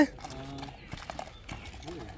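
A tall sport-bred horse, about 1.80 m at the withers, walks with slow, uneven hoof clops on hard ground, with a brief snort and people talking nearby.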